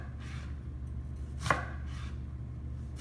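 A single sharp knife cut slices through an onion on a board, one close crisp chop over a low, steady background hum.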